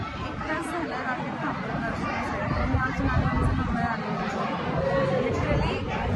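Dense crowd chatter at the evening aarti at Alandi temple on Ekadashi, a steady babble of many voices filling the space, close and continuous throughout.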